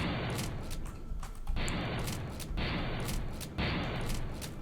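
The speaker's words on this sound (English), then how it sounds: "let's try the shotgun" Shotgun blasts clearing trees in the video game Factorio, a steady series of loud booming shots repeating roughly every second, with no talking.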